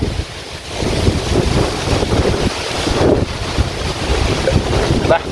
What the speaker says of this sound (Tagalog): Ang hangin, grabe sarap.